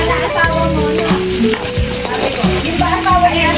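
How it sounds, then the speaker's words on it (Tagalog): Food fries in a pan with a loud, continuous sizzle and crackle, heard up close, with scraping stirs breaking in now and then and no talking. "Oh, magluluto tayo guys."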